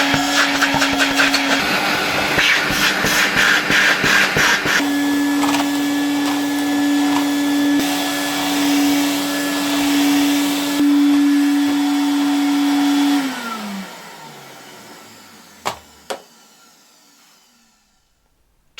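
Old Polish Zelmer type 268.6 vacuum cleaner from 1989 runs with a steady loud motor whine, then switches off and spins down over a few seconds, followed by a couple of faint knocks near the end.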